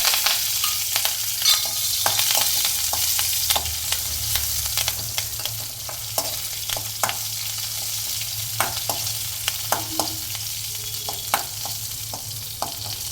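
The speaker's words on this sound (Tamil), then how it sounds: "கருவேப்பிலை நல்லா பொரிஞ்சிருச்சு." Curry leaves and green chillies splutter and sizzle in hot oil under a bright, steady hiss, with frequent sharp pops and crackles close by. No voices are heard.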